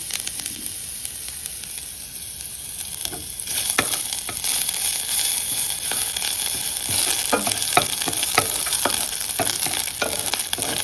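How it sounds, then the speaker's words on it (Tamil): Lentils sizzle and crackle steadily in a hot pan, with occasional scraping stir sounds and a constant frying hiss throughout. "பருப்பு நல்லா ஃப்ரை ஆகிடுச்சு"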